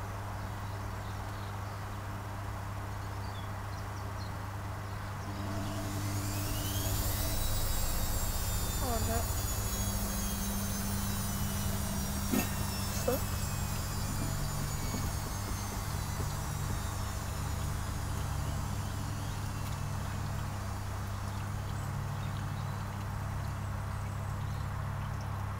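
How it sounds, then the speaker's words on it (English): A Zanussi FLA1002W washing machine on a 60-degree cottons cycle runs its main spin: a steady motor hum with a rising whine that climbs after the first few seconds and then holds a constant drone, with no talking. "I think this is a main spin now"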